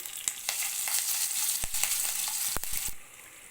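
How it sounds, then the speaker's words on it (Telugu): Green chilies and curry leaves sizzle and crackle in hot oil in a pan while vegetable rice is being cooked, a loud steady frying hiss with a few stirring knocks, fading near the end. "మిర్చి కొంచెం వేగిన తర్వాత కరివేపాకు వేయండి"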